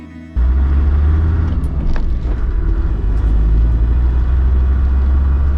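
Vehicle driving around an airfield, heard from inside as a steady low engine and road rumble that starts abruptly and holds without a break.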